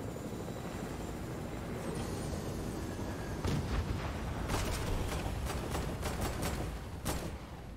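An aircraft in the Fortnite video game drones steadily overhead, a constant broad engine roar filling the clip, with several sharp cracks like distant gunshots breaking through in the second half.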